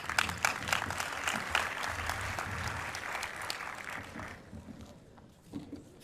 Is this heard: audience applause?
yes